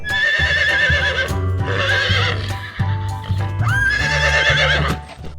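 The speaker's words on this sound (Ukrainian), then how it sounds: "І ще коник скаче. Цок-цок-цок." A horse whinnies and snorts loudly over a steady rhythmic clatter of hooves, with repeated neighing calls close by.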